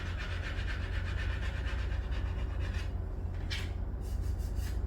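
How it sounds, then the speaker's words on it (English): A squeegee rubs transfer tape down onto paper in repeated short scraping strokes, a soft dry rasp that pulses back and forth, fairly faint and close, with no talking. "I'm gonna use my squeegee"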